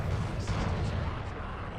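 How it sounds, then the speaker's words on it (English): Starship weapons firing in the space combat game Starfleet Command II, a dense, rumbling barrage of blasts and booms that rolls on continuously at high volume. "They fire all of their weapons"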